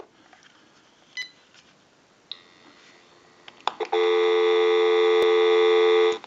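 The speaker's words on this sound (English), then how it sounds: "We'll go ahead and give you some dial tone." A few faint clicks and beeps, then a loud, steady dial tone sounds alone for about two seconds on a GE 6.0 27909 cordless telephone under repair, ending abruptly.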